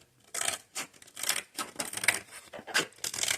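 Scissors cutting through plastic laminate sheet along a marked line, a series of close, crisp snipping and tearing strokes in irregular rhythm with no talk.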